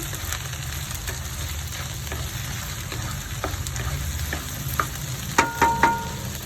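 Okra frying in a pan until browned for a Kerala vendakka theeyal, a steady close crackling sizzle with a few sharp utensil clinks against the pan near the end.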